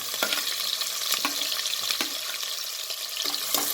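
Onions fry in a pan for veg biryani with a continuous close sizzle, broken by regular spatula scrapes and taps as they are stirred, with no talk.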